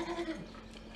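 A Cameroon goat kid lets out a short, wavering bleat, fairly close, over a dull outdoor background.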